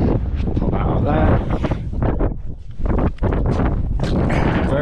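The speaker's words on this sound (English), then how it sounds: "Very windy, very, very windy." Strong coastal wind buffets the microphone in loud, continuous gusts near a tidal shoreline, with a brief lull midway and people's voices partly mixed in.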